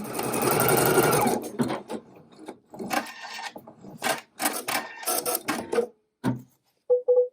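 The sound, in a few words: embroidery machine sewing placement stitch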